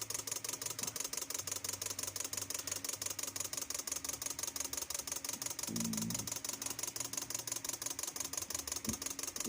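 A Toyota Altis engine runs on a workbench ECU simulation with injector number 3 switched off, a fast even mechanical ticking and clatter repeating throughout, quiet and steady, with a brief low thump near the end.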